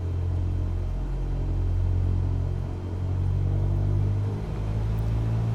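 A simulated propeller airplane engine in Microsoft Flight Simulator drones as a loud, steady, low rumble with a constant tonal hum, holding almost level throughout with no voices.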